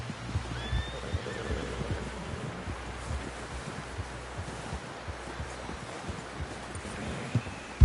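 A horse in the video game Red Dead Redemption 2, heard amid a rustling outdoor ambience with wind and soft hoof movement, with faint whinny-like tones rising above the noise; no clear neigh stands out.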